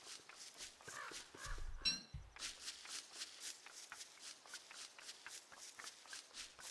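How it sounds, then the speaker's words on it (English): A player character wearing a log suit walks around in a multiplayer video game, producing a steady run of soft, rhythmic wooden clacks, fairly quiet and evenly paced. "You know what the clacking is? It's me walking around in the log suit."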